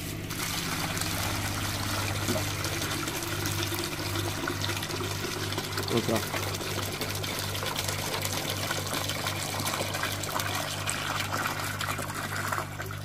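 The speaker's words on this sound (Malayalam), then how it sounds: "ഇത് ഇവിടെ വാൽവ് തുറക്കുമ്പോൾ നമുക്ക് അതിനകത്തേക്ക് ഈ ബക്കറ്റിലേക്ക് അത് ചാടിക്കാം" Water drains steadily from the valve of a biofloc fish tank into a bucket, a continuous close-up rushing trickle that fills the whole stretch, with a single brief spoken word partway through.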